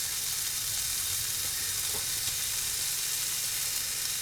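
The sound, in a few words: corned beef sizzling on the heat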